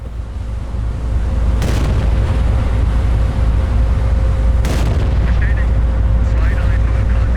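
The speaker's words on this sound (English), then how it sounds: "High explosive rounds going in." Naval guns firing high explosive rounds in the Battleship Command video game, two heavy booming blasts about three seconds apart over a constant low engine rumble, loud and close.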